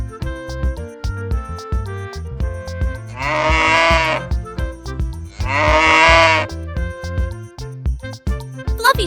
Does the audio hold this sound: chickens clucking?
no